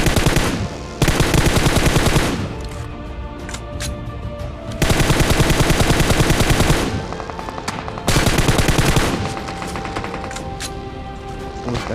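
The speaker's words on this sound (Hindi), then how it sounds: "उसका टीममेट फायर कर रहा था हमारे को।" Automatic gunfire from a PUBG Mobile match, loud bursts of machine-gun fire alternating with quieter stretches of scattered shots across the whole twelve seconds.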